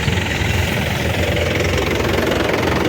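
A Mahindra 475 SP Plus tractor engine idles with a loud, steady, close rumble that holds evenly throughout, with no voices over it.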